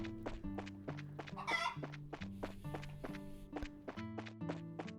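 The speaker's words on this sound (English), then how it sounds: "Nothing but a rooster." A rooster crows and clucks in a video game, set against a steady looping musical backing, with a brief, brighter crowing burst near the middle and soft thunks scattered through.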